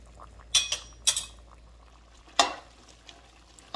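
Coconut and sugar mixture bubbling and reducing in a pot, with a faint bubbling bed broken by a few sharp clinks of a utensil against the pot, close and without talk.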